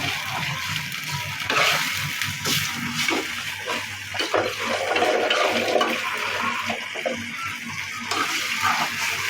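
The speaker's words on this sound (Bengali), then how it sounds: "আদা রসুন পেস্ট ভালোভাবে ভেজে নেবে" Ginger garlic paste fries in a pan with a steady, rushing sizzle that holds at an even, fairly loud level throughout, with faint clatter of utensils.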